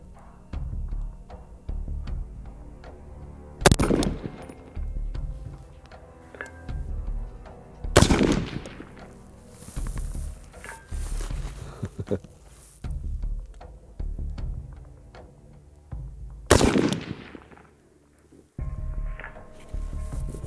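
Mk14 Mod 0 EBR rifle fired at a range: three loud, sharp reports spaced several seconds apart over steady outdoor background noise, with faint handling sounds in between.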